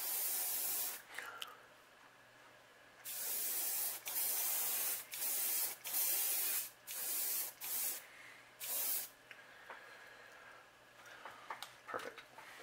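An airbrush sprays black paint along the spine of a factory fishing lure being repainted as a lemon pumpkinseed, in a series of loud, close hissing bursts of about a second each, with no talking.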